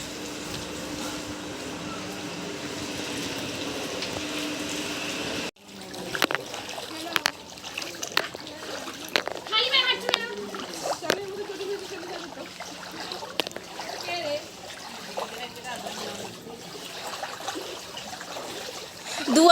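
Feet splash and slosh through rainwater flooding narrow lanes after a night of heavy rain, irregular wet steps close by under intermittent talk, following a steady wash of rain or running water.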